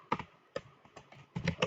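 Quick bursts of typing on a computer keyboard while entering network configuration commands: irregular close key clacks in small clusters, with a brisk flurry of strokes at the end.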